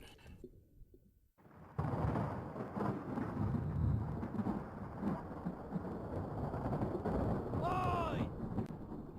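Deep thunder rolling from a storm at sea in Return of the Obra Dinn, a sudden heavy rumble after a quiet start that sustains as a dense roar, with a brief shouted voice near the end.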